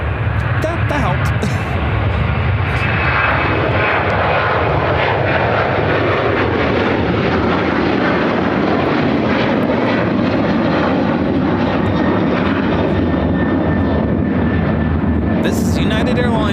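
A United Airlines Boeing 737-900ER jet takes off from Chicago O'Hare, its engines a loud, steady roar with a broad rumble that holds throughout, and a voice speaks over it.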